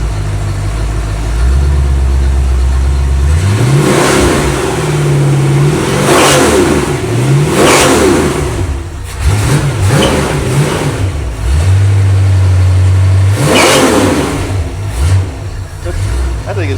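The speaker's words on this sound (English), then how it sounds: "I'll give it a couple revs" A rebuilt Ford small-block V8, a 289 or 302, is revved several times from idle, each throttle blip rising sharply and falling back to a low, loud idle rumble close by, with brief talk between revs.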